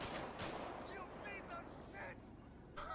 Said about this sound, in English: Why is Uncle T shooting me?